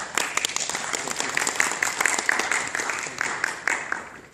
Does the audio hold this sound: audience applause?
yes